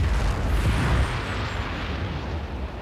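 Heavy booming blasts and rumble from anti-aircraft cannon fire amid a storm in a video game, a dense continuous roar with a strong low-end burst in the first second before settling into steady loud rumbling.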